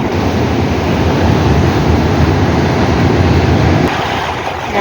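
Large ocean waves crashing continuously at a Hong Kong shoreline, a loud, dense roar of surf with heavy low rumble and wind buffeting the microphone, easing a little near the end.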